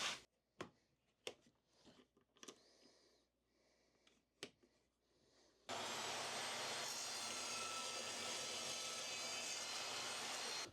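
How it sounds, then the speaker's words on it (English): Router table making a cross cut with a coping sled: a few faint knocks and handling sounds, then the router starts and runs as a loud, steady high whine through the remaining five seconds. "make a cross cut"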